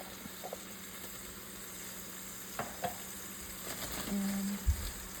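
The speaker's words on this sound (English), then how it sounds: "And I'm gonna actually put this to fry on here." Plantain paste with sofrito, garlic and red peppers frying in a pan, a soft steady sizzle over a low hum, with a few faint clicks and a brief clunk near the end.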